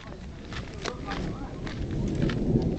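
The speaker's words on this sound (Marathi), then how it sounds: "येतोय ढगांचा कडकडण्याचा आवाज अतिशय" Thunder rumbles across the sky during a mountain trek at Rajgad fort, a low, continuous roll that swells slightly toward the end over steady outdoor noise.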